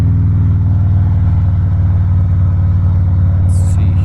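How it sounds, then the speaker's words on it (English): A 2017 Harley-Davidson Softail Breakout motorcycle's exhaust gives a steady, loud, deep rumble at low revs, close up, with a brief higher tick near the end. "Ooh, rumble, rumble. That pipe sounds good."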